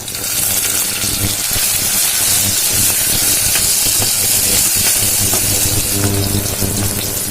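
Tomatoes tipped into garlic and onion frying in oil for Tamil ration-rice paruppu sadam, giving a loud, steady sizzle and hiss that fills the whole stretch without pause.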